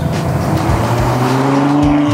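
Ferrari 812 Superfast, a rear-wheel-drive 800-horsepower car, revving hard as it accelerates, a loud steady engine roar with a rising tone through the whole stretch, heard close with no talk over it.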